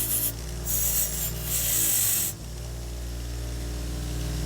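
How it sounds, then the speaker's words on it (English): A grinding wheel fitted with a wire brush scrubs rust off a car's front brake part, giving harsh raspy bursts over a steady motor hum. The scrubbing stops after about two seconds while the tool keeps spinning. "This is a grinding wheel with a wire brush on it. It'll just take some of the rust off of it."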